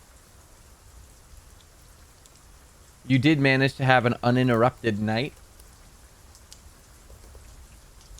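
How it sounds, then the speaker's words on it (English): Steady heavy rain pours outside throughout, a constant wash of noise, with someone speaking briefly over it in the middle. "You guys wake up to the sound of heavy pouring rain,"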